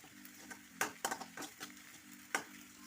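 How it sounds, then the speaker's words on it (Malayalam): Ginger, onion and cumin fry in a pan under a steady low sizzle, broken by several sharp scraping stirs that come in uneven bursts, close and fairly quiet. "നമ്മുടെ ഇഞ്ചിയും ഉള്ളിയും ജീരകവും എല്ലാം കൂടെ നല്ലവണ്ണം മൂത്ത് വന്നിട്ടുണ്ട്"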